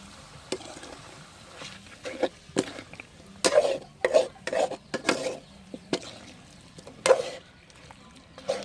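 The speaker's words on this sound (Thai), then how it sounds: "ไฟอ่อนไว้นะครับเนาะก่อยคั่วไปเรื่อยๆนะครับ" Chicken is dry stir-fried in a pan over low heat, with a spatula scraping and clinking against the metal in scattered, irregular strokes, some sharp and close, others soft, amid quiet pauses.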